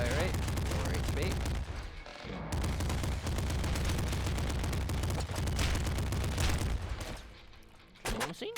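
Dense, continuous rapid-fire machine gun bursts from the Nuclear Throne video game, layered with game effects and music, with a brief lull partway through.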